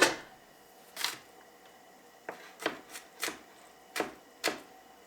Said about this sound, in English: I'm gonna go ahead and get the other onion diced on up.